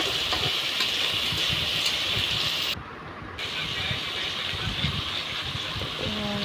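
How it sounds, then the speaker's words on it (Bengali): Potatoes and pointed gourd frying in a wok give a loud, steady sizzling hiss that briefly drops away, then resumes just as strongly. "এখানে কড়াই চাপিয়ে আমি আলু আর পটল দিয়ে দিয়েছি, ভাজা করে নেব"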